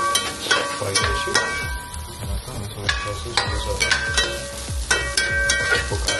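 Food frying and being stirred in a pan, with a steady sizzle broken by repeated scraping strokes at close range and no talking.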